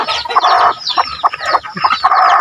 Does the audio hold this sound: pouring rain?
no